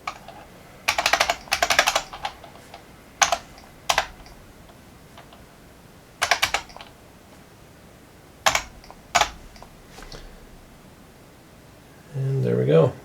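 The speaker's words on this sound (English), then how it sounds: "Put the number lock back on, test the number keys." Number keys are pressed on a Unicomp Mini M buckling-spring keyboard, a space-saving take on the IBM Model M, in several short bursts of loud clacky keystrokes separated by pauses, ending with a brief rustle.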